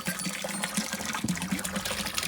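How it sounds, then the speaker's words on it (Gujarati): Water runs steadily, gushing and splashing into a cattle trough with a continuous hiss, no voices. "અત્યારે પાણી ચાલુ કર્યું છે"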